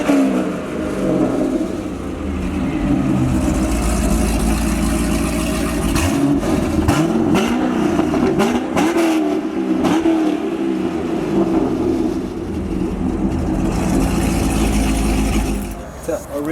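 A 2007 Corvette with a 427 7.0 V8, 22,000 miles, Corsa exhaust and upgraded intake, idles with a deep burble and is revved repeatedly in sharp bursts, loud and close, while people talk nearby.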